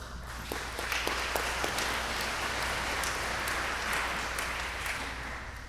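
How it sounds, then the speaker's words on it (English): Dense, steady applause from an audience at a university awards ceremony, filling the whole stretch at moderate loudness with many overlapping claps, a few sharper individual claps standing out near the start. "let's give them a quick round of applause"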